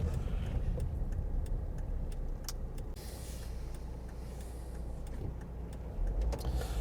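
Car cabin noise on a drive from Folkestone through Sandgate to Hythe, a steady low road rumble with faint ticks and clicks, no talking.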